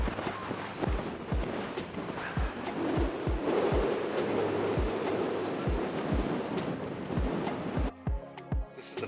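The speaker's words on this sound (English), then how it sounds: "Sorry about the wind, it's really blowing here today." Strong outdoor wind buffeting a microphone near a hillside fortress, a dense continuous rumbling roar broken by repeated low thumps, loud throughout and briefly dropping near the end.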